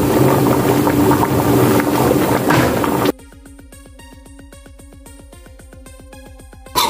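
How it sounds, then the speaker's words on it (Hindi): A bone marrow salan curry bubbles on high flame, a dense, steady sizzling and boiling that cuts abruptly into a quieter, regular ticking pattern before the sizzle briefly returns at the end. "इसको मैं 5 मिनट के लिए हाई फ्लेम पे पका लूंगी।"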